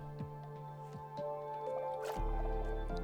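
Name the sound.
water elevator bubbling in Minecraft video game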